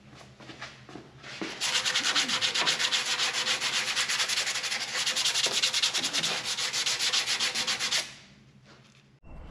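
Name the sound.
sanding with sandpaper on a car exhaust part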